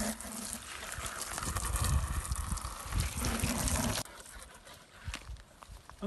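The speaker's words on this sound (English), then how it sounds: "now we're going to rinse them out just to make sure they're nice and clean before we put them in use again" Water splashes and trickles while buckets are rinsed out outdoors, with steady running and gushing, irregular knocks of the buckets, and a sudden drop in level partway through.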